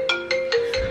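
A mobile phone ringtone chirps in four quick repeating bursts over a steady tone, close and fairly loud, as an older woman's phone rings with birthday calls.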